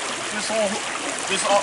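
A creek flows steadily along a wooded bank, with a continuous broadband rush of water and brief tonal sounds that may be faint voices above it.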